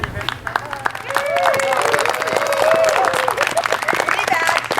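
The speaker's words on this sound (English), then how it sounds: "Applause good." Crowd applause at a royal and baronial court gathering, clapping that swells and holds with cheering voices and speech mixed in over the noise.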